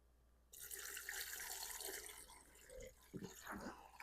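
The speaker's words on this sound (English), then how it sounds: "Then all we have to do is add water." Water pours steadily into an Instant Pot after a sharp start, a continuous splashing fill that settles toward the end into gurgles and short splashes, fairly close.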